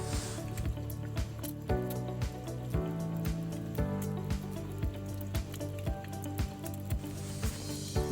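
An egg frying in a pan while the white sets for vegetarian egg fried rice: a steady soft sizzle with small popping crackles and drips, quiet and close, with no talking.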